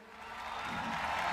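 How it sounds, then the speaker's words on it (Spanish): Crowd applause for the athletes at the ASU2022 closing ceremony: a soft, broadband wash of clapping and cheering that swells steadily from quiet to fuller, heard from a distance with no clear speech. "Un aplauso a los atletas"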